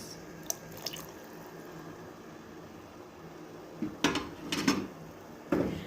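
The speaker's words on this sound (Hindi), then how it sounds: "2 टेबलस्पून इसमें हम शामिल कर रहे हैं सोया सॉस" Soy sauce goes into a pot of hot and sour chicken corn soup: a soft background hiss, then a few short liquid splashes and light clinks of a utensil near the end, close by with no voices.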